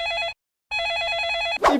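A telephone bell rings loudly and close by in two bursts split by a short pause, followed by a brief rustle.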